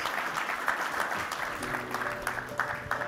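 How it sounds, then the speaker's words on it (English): An audience at a keynote event applauds with sustained, dense clapping that holds at an even level, and a faint tone runs underneath toward the end. "Let's get another round of applause for our keynote speaker and his inquisitor."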